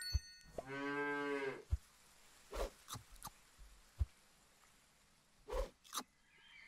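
A cartoonish cow moos once, long and harmonic, inside the Super Auto Pets game, followed by several sharp, brief game clicks and thumps against quiet background.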